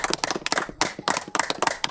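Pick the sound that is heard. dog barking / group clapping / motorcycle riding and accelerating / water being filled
group clapping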